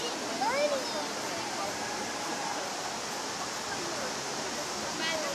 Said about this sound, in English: the water is starting to churn